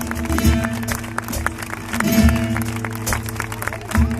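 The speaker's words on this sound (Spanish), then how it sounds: "que suenen las palmas como están sonando ahora" Rhythmic flamenco palmas, hands clapping in time at a live performance in Chipiona, sharp repeated claps in a steady beat with background crowd noise and faint voices, fairly close.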